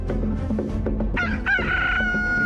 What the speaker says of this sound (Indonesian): sebelum ayam berkokok